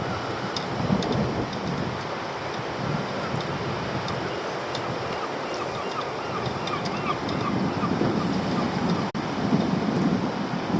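Strong wind roars steadily at sea around a fishing boat, a loud broadband rush with gusts swelling and easing throughout and no speech over it.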